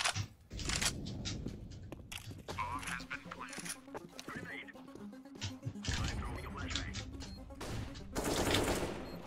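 Counter-Strike gunfire on the Dust 2 map, sharp rapid bursts of shots and fusillades crackling up close, mixed with players' excited voice chat over the top.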